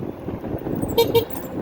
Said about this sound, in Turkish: Bize mi korna ediyor?